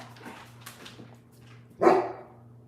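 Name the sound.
shepherd dog barking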